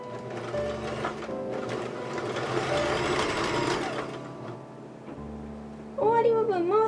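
A sewing machine runs in a continuous, close mechanical whir with stitch-rate rattle, sewing a ballet tutu skirt with a knit stitch. It pauses briefly, then a voice comes in at the very end.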